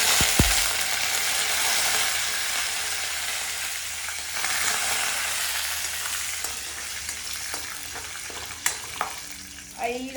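Mustard seeds, dry red chillies and curry leaves sizzling in white oil for a Maharashtrian-style cabbage curry, a dense steady frying hiss with a few sharp pops and stirring clinks near the end, no talking.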